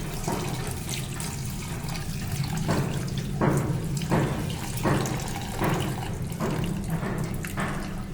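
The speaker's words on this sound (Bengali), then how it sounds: "এখন আমি কল ছেড়ে পানি দিয়ে একটু ধুয়ে নিচ্ছি, ঠান্ডা করে নেব জাস্ট।" Water from a kitchen tap runs steadily through a strainer onto milk curd (chhana), with a continuous rushing splash and periodic surges as the flow shifts while rinsing, heard close and alone.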